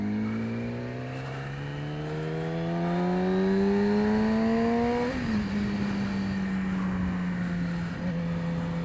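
Yamaha R6 sport motorcycle engine revving up steadily to a high whine, dropping briefly, then holding a high buzzing tone, loud and close with no talk.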